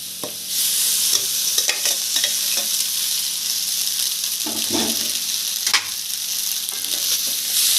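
Vegetable noodles are tossed and stirred in a hot pan, giving a loud, continuous sizzle broken by rhythmic scrapes and knocks of the spatula, with no talking.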